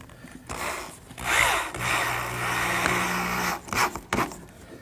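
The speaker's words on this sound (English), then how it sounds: "You might have noticed that I'm using a square drive screw. They're real nice to drive." A power drill drives stainless steel square drive screws into a wooden frame in a workshop, whirring in two long bursts of a second or more each, then short bursts near the end.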